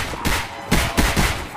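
Gunfire in a Malaysian zombie-survival shooter game: a quick run of three or four loud, close shots in an uneven burst, with no talk over them.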